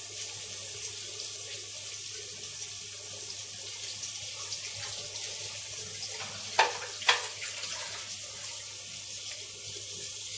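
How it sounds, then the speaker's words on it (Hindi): A plate used for chopped onions is washed under a running tap in a kitchen, giving a steady close water hiss with two brief clinks near the end and no speech. "साथ ही मैंने प्याज वाली प्लेट भी धो ली है"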